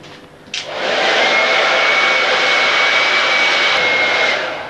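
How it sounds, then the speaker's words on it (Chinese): Electric blow dryer drying a freshly washed metal sign, switching on with a click and then a steady loud whoosh of air holding a constant whine until it fades at the end. "好，我们呢就采用吹干的方式啊。"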